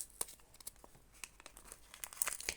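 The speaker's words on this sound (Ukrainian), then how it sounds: "ось цей пакетик відкриваємо" Close paper crinkling and tearing, a series of short crisp rustles and rips as a small packet is pulled open, with no talking.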